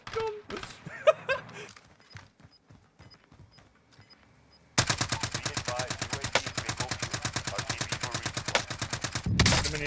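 Automatic gunfire in Call of Duty Warzone: a scattered run of isolated shots and quieter sounds, then a loud, steady stream of rapid-fire bursts that continues to the end, close and dominant.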